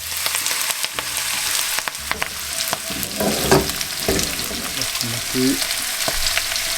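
Mixed vegetables hit a hot pan for a sweet and sour chicken stir-fry and set off a constant loud sizzle. Scattered clinks and stirring scrapes sit on top, and a voice speaks briefly.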